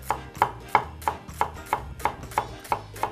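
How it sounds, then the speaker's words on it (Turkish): An onion being chopped finely with a knife on a cutting board, about ten evenly spaced crisp knocks in a steady rhythm, close and clear. "Aynen soğanı da böyle mümkün olduğu kadar ince doğradım."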